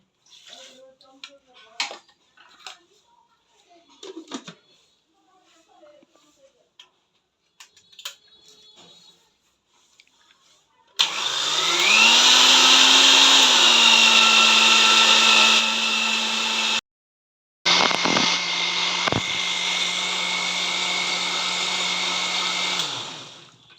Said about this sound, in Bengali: এবার পালং শাকটা পেস্ট করে নেব মিক্সিতে দিয়ে দিলাম